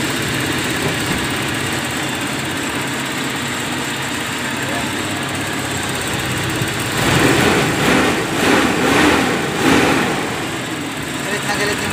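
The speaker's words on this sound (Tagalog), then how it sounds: "Galit na galit yung makina ngayon" A small, high-pitched 7K engine drones steadily after a distributor oil seal replacement, then revs up in several hard bursts near the end, loud and close.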